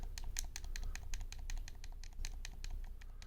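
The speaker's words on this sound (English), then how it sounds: "It's the classic button sound." Buttons on old and new game controllers click in quick, uneven succession, crisp and close to the mic, with no voices.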